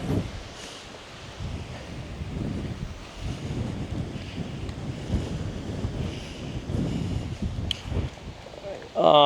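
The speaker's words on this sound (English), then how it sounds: "so obviously you saw that was the wind" Strong gusts buffet the microphone on a windy golf course, a rough, roaring rumble that rises and falls in waves throughout, with a sharp knock near the end.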